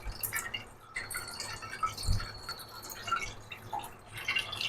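Kurdai batter being strained by hand, with liquid dripping and trickling in soft irregular drops close by, and faint clatter around it.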